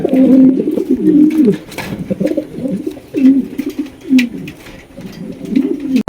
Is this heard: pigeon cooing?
yes